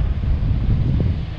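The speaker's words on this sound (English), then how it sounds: "we are in about a constant 30-mile-an-hour wind out here." Strong, steady wind of about 30 miles per hour, with stronger gusts, buffeting the microphone outdoors with a deep, continuous roar and low rumbling gusts, close and loud, with no voices.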